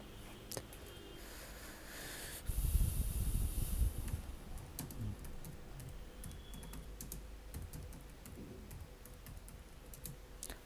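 Keyboard typing as text is entered into a PowerPoint text box, a steady run of light, quiet key clicks with a brief louder burst of keystrokes early on, no voices.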